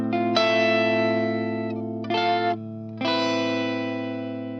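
Clean electric guitar chords, played through a free JSFX compression plugin in Reaper, ring out in three sustained strums, each decaying smoothly with an even, compressed tone and no voices.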